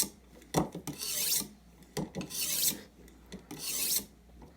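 Knife blade drawn across a sharpener to remove the burr, a series of rasping strokes about once per second, close and fairly quiet, with no talking.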